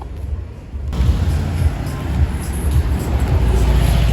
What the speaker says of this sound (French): Petite Porsche d'époque sympa.